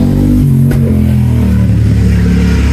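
Cars rev and roar past on a street in Menton, engines rising and falling loudly and continuously at close range.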